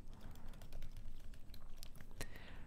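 Typing on a computer keyboard while coding, a fast run of light key clicks with one louder tap near the end, fairly quiet and close, with no voices.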